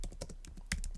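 Quick keystrokes on a computer keyboard, a short burst of light, close clicks with one sharper tap near the end, quiet and without talk.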